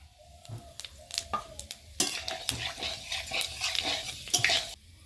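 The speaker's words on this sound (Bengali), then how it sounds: "ফোড়নে এখানে কয়েকটা গোটা গরম মশলা নিয়েছি একটা শুকনো লঙ্কা তেজপাতা আর পাঁচ ফোড়ন দিয়ে দেবো" Whole garam masala, a dried red chilli, bay leaf and panch phoron are tempered in hot oil, with a spatula clinking and stirring against the pan, then a louder burst of crackling sizzle.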